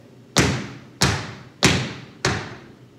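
Four heavy tap dance stamps, the whole sole of a tap shoe slapping the floor, land evenly spaced about two-thirds of a second apart. Each is a loud, close thud with a short ringing decay.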